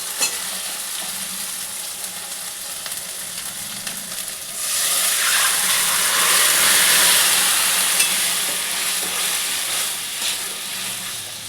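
Sukto, a Bengali mixed-vegetable curry, pouring into a hot pan and breaking into a loud, steady sizzle that swells partway through and then settles into constant close frying hiss.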